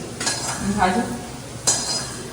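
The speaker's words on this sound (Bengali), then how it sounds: "আমি ডিম ভাজছি" Eggs fry in a pan with a low sizzle, broken by a spatula scraping and clinking against the metal in a few close bursts.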